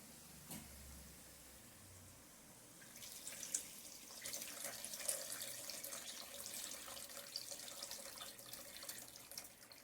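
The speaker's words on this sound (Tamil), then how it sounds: "இப்போ புளி தண்ணி சேர்த்துக்கலாம்." Tamarind water pours steadily into a pan, a continuous splashing rush that begins after a few quiet seconds and keeps going to the end.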